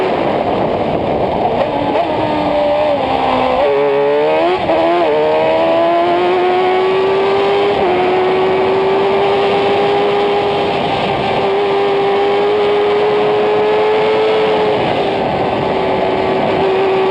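A Dodge Viper race car in the 2010 Viper Cup at Hallett Motor Racing Circuit roars loud and close. The engine revs climb through a couple of quick gear changes, then settle into a long, sustained high-pitched howl at full throttle.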